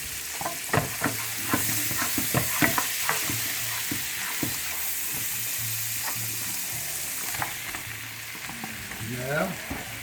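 A pound of thickly sliced mushrooms frying in a pan with a steady soft sizzle, while a utensil stirring them makes repeated light scrapes and taps against the pan throughout.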